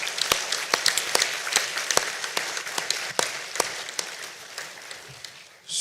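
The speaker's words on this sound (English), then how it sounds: "Big applause to our 5 candidates." Delegates at the 2025 World Archery Congress applaud the candidates with sparse, distinct hand claps scattered irregularly over a soft room murmur, fairly close and never building into a dense roar.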